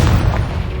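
A Confringo fire spell blast in Hogwarts Legacy lands as a single deep, booming burst, loud and close, with a rumbling low tail through the rest of the moment.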